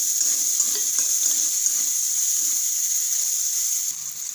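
Onions fry with garlic paste and grated ginger in a pan, giving a steady, close hiss of sizzling oil that dips slightly near the end, with no talking.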